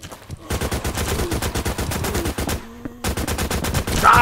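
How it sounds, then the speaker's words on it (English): Rapid sustained machine gun fire in a Call of Duty Zombies–style Minecraft game, loud and close, in long continuous bursts with a brief pause before it resumes. "This machine gun's fucking sick."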